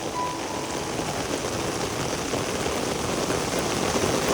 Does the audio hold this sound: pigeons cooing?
no